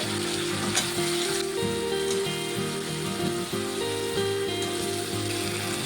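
Fried vegetables, including bean seeds, going into hot spice masala in oil for a vegetarian dish, giving a steady close crackling sizzle with soft stirring and no talking.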